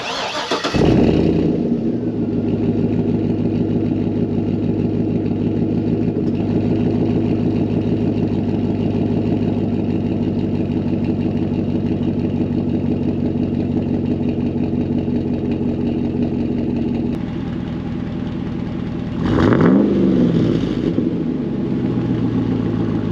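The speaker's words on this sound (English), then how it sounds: "Let's take a listen to the new exhaust." A leveled, lifted GMC Yukon Denali with a new Total Flow exhaust idles with a steady, smooth low rumble, close and continuous, with a brief rev swell near the end.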